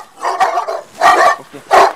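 Dogs bark close by, three loud separate barks spaced about half a second apart, with nothing else heard.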